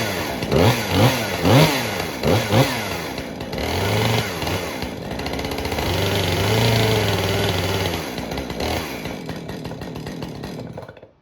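Chainsaw pull-started while resting on the ground: several sharp pull-cord bursts, then the engine catches and runs loud and steady up close before cutting off near the end.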